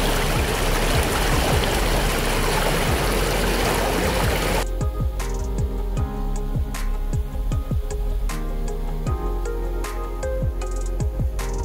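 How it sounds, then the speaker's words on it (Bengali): Water rushing and trickling over rocks at a hidden waterfall near Kharagpur, West Bengal, a dense close roar that gives way to lighter splashing and gurgling flow with scattered drips and knocks. "দেখতে পাচ্ছ ওদিকে গঙ্গা জলের মতো স্রোত বয়ে যাচ্ছে"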